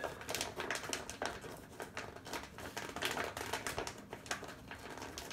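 A packet of down insulation being folded over and pressed by hand gives a close, continuous crinkling and rustling with quick papery ticks and no talk.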